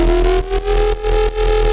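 Drum and bass synth bass processed with compression, distortion, EQ and a saturator: a loud, steady distorted tone with harmonic overtones, pulsing with brief dips in level across its length.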